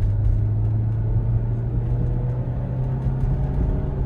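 A car idles with a steady low engine rumble and drone, running continuously throughout while its gears are shifted; no distinct shift clunks stand out from the even hum.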